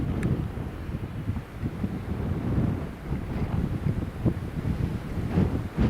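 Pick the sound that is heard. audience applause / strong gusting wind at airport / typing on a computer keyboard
strong gusting wind at airport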